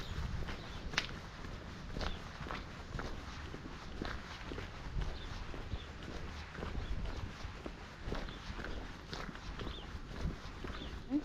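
Horse hooves clip-clopping on a country road along the Camino Inglés: a steady run of soft, fairly faint hoofbeats over light outdoor background noise, with no talking.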